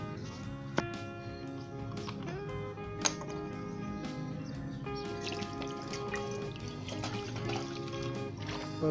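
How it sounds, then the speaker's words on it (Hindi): About a glass of water is poured into a pot holding an upturned bowl, set up for steaming an egg pudding, giving a continuous trickling, ringing pour with small metallic clinks and no talk. "तो उसके बाद आपने इसमें 1 गिलास के करीब पानी डाल दें।"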